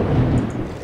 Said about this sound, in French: dans le sound effect, on entend qu'il pleut